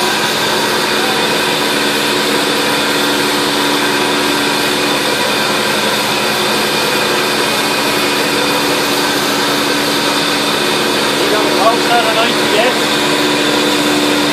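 A Mytee TREX rotary carpet extractor runs loud and close with a steady, high-pitched motor whine and hiss that holds constant throughout.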